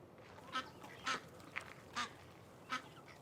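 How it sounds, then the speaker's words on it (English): Ducks calling in a marsh: four or five separate honking quacks spaced about half a second to a second apart, moderately close over a quiet outdoor background. "A few more ducks"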